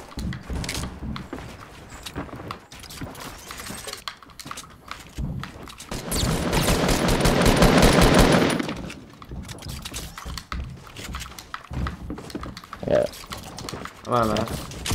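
Gunfire in a high-kill duos battle royale video game, a dense burst of rapid shots in the middle under excited talk from a player, with scattered clicks and game sounds around it.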